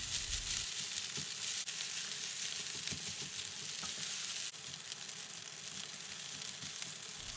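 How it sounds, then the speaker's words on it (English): Rice in a pan for Yangzhou fried rice with shrimp, BBQ pork and eggs, stirred and broken apart with a spatula, giving a steady loud sizzle with scraping strokes throughout, no talk. "Use your spatula to separate the big clumps of rice while making sure not to mash up the grains."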